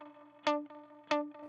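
Two distorted guitar chords, each struck sharply and then trailing off into a dark, spring-style reverb wash with a slight echoing delay.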